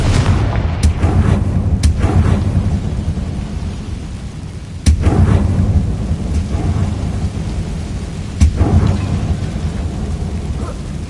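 Confringo fire spells explode in the Hogwarts Legacy video game: a steady low rumble under close, heavy blasts, with two sharp booms standing out roughly four seconds apart and no talking.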